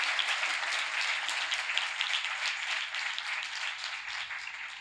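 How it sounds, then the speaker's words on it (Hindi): Congregation applauding together during a church service, a steady wash of many hands clapping at moderate distance, fairly soft and even throughout with no talk over it. "खुदा के जलाल के लिए जोरदार ताली"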